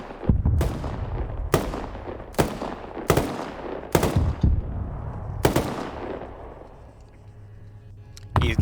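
Repeated short bursts of M249 light machine gun fire in a large-scale PvP shooter game, about six loud, sharp volleys spaced a second or so apart with reverberant tails, no talking.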